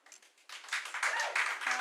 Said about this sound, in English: we don't need a clapping. No clapping, sorry.